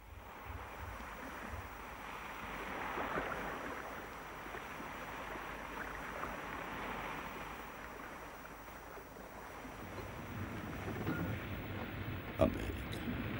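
Sea waves washing against a sailing ship, a soft, steady surge with wind noise and a low rumble toward the end, heard from a distance and fairly faint.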